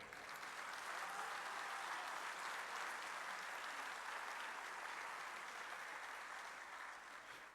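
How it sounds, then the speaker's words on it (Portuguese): A large crowd applauds the MpD party at its 35th anniversary event in Cape Verde, a dense, steady roar of clapping that holds even and continuous throughout without voices standing out. "ainda pede um salva de palmas para a MPD"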